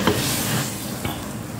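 Chicken simmering in a pot as stock for chicken pulao after being browned, with a steady soft bubbling sizzle and a brief stirring scrape near the end, close and alone.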